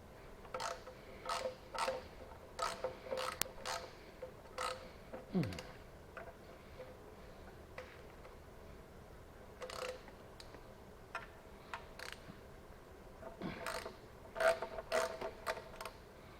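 Metallic ratcheting clicks from a wrench working bolts on a 1975 Chevy Vega engine come in irregular short bursts, close and moderately loud, with a brief low rumble partway through.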